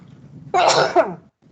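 A single sharp sneeze bursts out close by, loud and brief, then stops abruptly.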